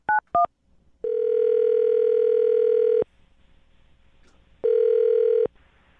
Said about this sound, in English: I'm going to dial the phone number right now, get him on the phone